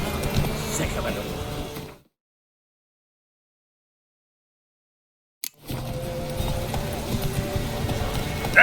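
Roach, the horse in The Witcher 3: Wild Hunt, trots along with rhythmic hoof clip-clops. The hoofbeats cut to total silence midway, then resume at a steady pace.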